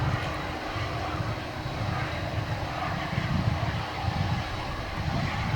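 Cargo jet airliner, a UPS heavy, on runway 18 right at Dallas/Fort Worth Airport at night, a distant steady engine roar with low rumbling swells, continuous and moderately faint.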